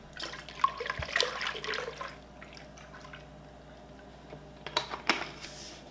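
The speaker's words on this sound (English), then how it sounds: "Now we want to go ahead and add the rest of our ultra filtered milk." Ultra-filtered milk poured into an Instant Pot while making cold-start yogurt, a soft liquid splash in two short bursts with quiet pauses between, faint and close.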